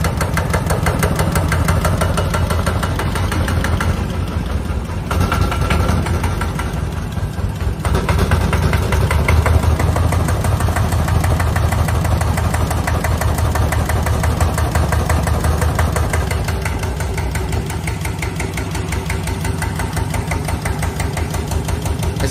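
Kubota RT110 diesel engine running with a loud, steady, close chugging and knocking rumble that holds constant throughout, with no voices.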